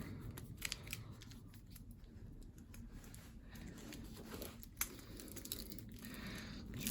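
Hand shears snipping and gnawing at a plastic-coated Decathlon BTwin cable lock, close crunchy cuts and scraping in irregular bursts, with one sharper snap near the end.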